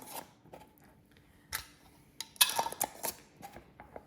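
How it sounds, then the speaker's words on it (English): Lids are clinked and screwed onto glass jars of vanilla-infused honey, a scattering of sharp metallic taps and clicks at close range, with a cluster of louder clatters in the middle and quiet gaps between. "Put our lids on."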